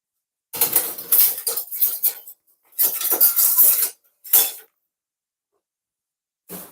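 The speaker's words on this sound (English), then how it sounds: "So I'm gonna change from the spoon and I'm gonna use a whisk instead." A whisk beating milk into a roux in a pan, loud close metallic scraping and rattling in three bursts separated by brief silences, with a short clink at the end.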